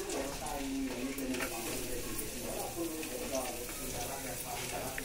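Chicken curry gravy for chicken lagan bubbles in a pan with only a little oil, a continuous close, moderately loud simmering burble that holds steady throughout.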